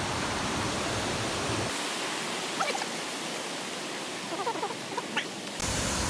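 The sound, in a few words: waterfall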